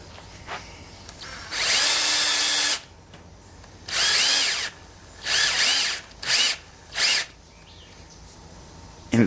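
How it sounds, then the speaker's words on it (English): A power drill twisting electric fence wire runs in several bursts, one long pull and then shorter spins, each starting and stopping abruptly. Quiet pauses separate them. "I got it in the drill. I'm finna twist it"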